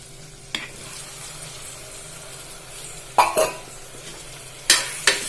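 Tomato is stirred into sautéed shallots in a pan, with a low sizzle underneath and a few sharp scraping strokes of the spoon near the end, no speech.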